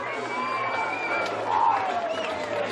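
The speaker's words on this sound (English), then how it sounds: "They've got a parochial crowd here. They are fired up here." A parochial home crowd at a junior rugby league A-grade grand final in South Sydney cheers and whoops steadily as the Alexandria Rovers run onto the field, a continuous roar of voices with brief shouts rising over it.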